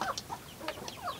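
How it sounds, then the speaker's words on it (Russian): Hens cluck softly around a new feeder, a few short, faint clucks and chirps in quick succession with no talking. "Курочки мои, куры, куры, куры, идите покушайте."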